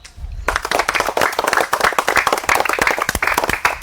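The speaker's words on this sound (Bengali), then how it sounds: "দর্শক বন্ধুরা একবার হাততালি দাও" An audience claps in a dense, sustained burst that begins abruptly after a brief quiet moment, with many hands beating fast, close and loud, and a little background voice mixed in.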